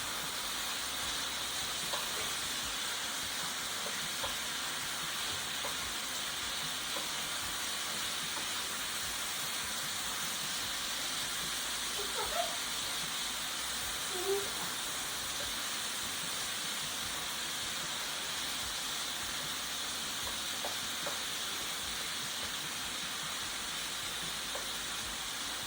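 Sausage and ground beef sizzle together in a pan: a constant, even hiss of frying meat, fairly close, with no talking throughout.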